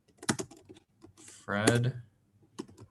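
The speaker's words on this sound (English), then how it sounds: "Problem when you're talking and you're typing." Computer keyboard typing comes in clicky bursts at the start and end, interleaved with speech from a person talking; a louder stretch of voice sits in the middle.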